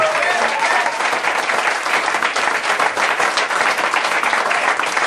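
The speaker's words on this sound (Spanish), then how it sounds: "Dale fuerte el aplauso a Jehová" Loud, dense applause from a large church congregation, sustained and even throughout with no pauses.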